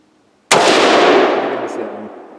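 A single loud gunshot from a Tavor X95 bullpup rifle cracks sharply, then booms and rolls away in a long echo that fades over about two seconds outdoors.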